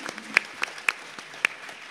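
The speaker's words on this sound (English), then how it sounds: "Yeah, clap for that." A few scattered, separate claps from an audience at a San Diego Comic-Con Magic: The Gathering panel, sparse and fairly near, with no voices over them.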